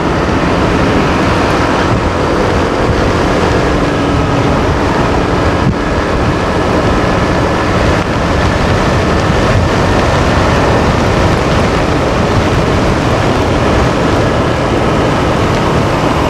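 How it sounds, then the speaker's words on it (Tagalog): Loud, continuous wind roars and buffets against the microphone, a dense rumbling noise that never lets up. "palo ng hangin sa atin"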